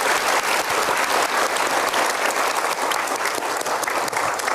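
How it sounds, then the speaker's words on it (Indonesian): A television studio audience gives guests a sustained round of applause, loud and dense clapping from many hands that stays constant throughout, with a faint crowd murmur beneath. "Kita berikan tepuk tangannya mereka."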